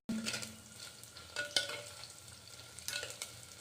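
Onions and ginger-garlic paste fry in a pot for prawn biryani, a steady close sizzle broken by a few sharp scrapes and clicks of a stirring spoon, with no voices.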